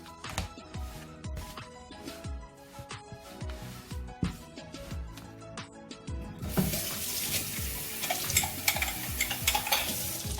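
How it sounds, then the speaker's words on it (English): Lukewarm water pours from a tap into a bowl while making Nigerian buns; scattered stirring knocks and clicks come first, then a steady, close rush of running water takes over for the last few seconds. "Adding lukewarm water."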